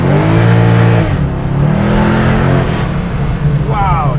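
A big block V8 in a Jaguar sedan drag car, running on the motor without nitrous, revs loudly and close by, its deep roar rising and falling, while people talk over it.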